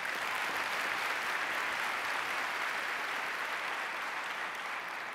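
Steady applause from a large conference audience, dense and even throughout with no voices standing out.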